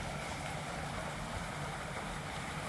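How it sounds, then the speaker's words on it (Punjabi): Water pump motors running beside a rice paddy, a steady, unbroken broadband rushing drone with churning water, fairly faint and without any voices. "ਇਧਰ ਮੋਟਰਾਂ ਚੱਲ ਰਹੀਆਂ ਨੇ"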